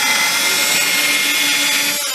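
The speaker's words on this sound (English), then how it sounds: "I'm going to take those pilot holes and drill them all the way through" A power drill boring pilot holes through a clamped guitar headstock, a steady high-pitched whining drone held close and loud, easing off right at the end.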